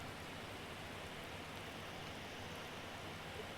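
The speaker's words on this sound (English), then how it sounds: "I wish it wasn't raining." Steady rain pours down outdoors in Stewart, forming a dense, even hiss that holds unchanged and fairly loud throughout, with no voices.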